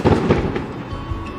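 Fireworks set off in daylight in China crackle and boom in a short, dense volley of rumbling bangs, somewhat distant and fairly loud, over barely a second and a half.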